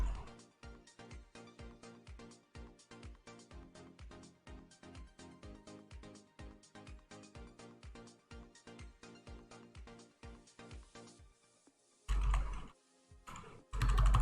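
Steady, rapid typing on a computer keyboard at a trading desk, dozens of evenly spaced key clicks close to the microphone, ending in a pause and a couple of louder knocks, with no talking.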